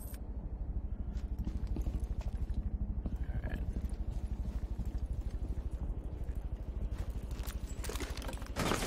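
Footsteps in the video game Rainbow Six Siege on the Border map: a steady, fast run of loud, dull thuds that continues through the whole stretch.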